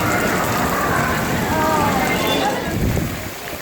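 Heavy rain pours down at Magic Kingdom in Walt Disney World, a steady, dense hiss of water that stays loud throughout, with voices faintly mixed in.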